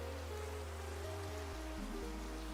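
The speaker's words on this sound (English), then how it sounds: "it's raining." Steady rain hisses across a Minecraft world, a soft even wash of falling drops with low game tones humming beneath it, no voices present.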